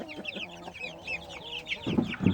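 Several chickens and young pullets, with some roosters among them, cluck close by, overlapping in a busy chorus with a few louder bursts near the end.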